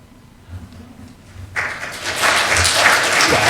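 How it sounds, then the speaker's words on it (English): Applause from a congregation at a Unitarian Universalist fellowship service breaks out after a quiet lull and builds into steady, dense clapping that fills the room and holds to the end. "I was just waiting for the applause."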